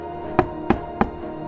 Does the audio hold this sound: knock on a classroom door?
yes